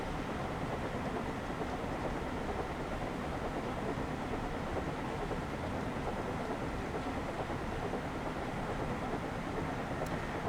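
Thomas the Tank Engine steam locomotive running on the West Somerset line in Train Sim World 5, a steady dense rumble of wheels and rail noise at constant loudness throughout, with no talking.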